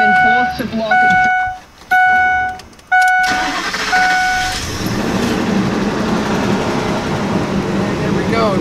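A 2003 Ford F-250 with a 6.8L V10 that had a crank/no-start fault cranks with short chime-like tones, then fires at about three seconds into a loud, steady idle rumble up close.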